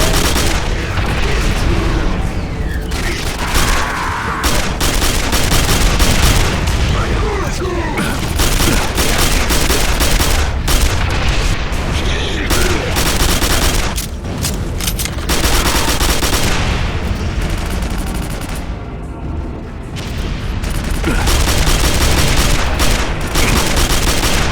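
Rapid gunfire from a Quake 4 weapon switched to semi-automatic, a dense run of shots and booms that fills the whole stretch loudly and almost without pause, with a voice occasionally audible beneath the firing.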